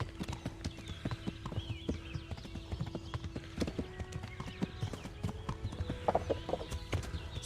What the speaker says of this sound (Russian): когда у тебя лошадь бежит галопом